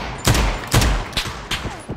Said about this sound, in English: There's a team on 8 shooting.